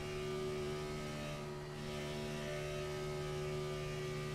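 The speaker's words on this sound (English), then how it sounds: "You can hear him letting off the gas to kind of try to give the engine some breathe, let it breathe a little bit." A race car engine drones steadily in an NSRA racing simulation on the Monza oval, its layered tonal hum holding nearly constant with a slight dip as the throttle eases before it carries on.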